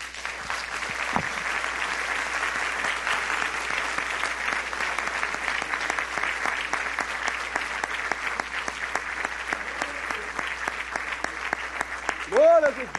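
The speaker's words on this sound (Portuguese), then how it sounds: "Vamos aplaudir ao Senhor" Congregation applauding the Lord at an evangelical church's anniversary service, a long, dense wash of clapping that stays loud and steady, with voices calling out over it and a brief vocal shout near the end.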